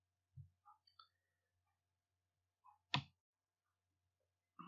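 Quiet, sparse mouse clicks sound while working in Microsoft Excel, a few soft isolated taps spaced across a near-silent background with one sharper click in the middle.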